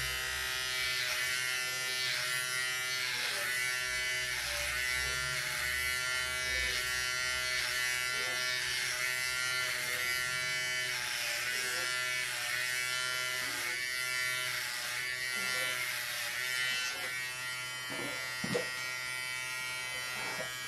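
A Philips 8-in-1 MG3730 electric trimmer runs with a steady, close, loud buzzing whine that holds unbroken for about twenty seconds. No one speaks over it.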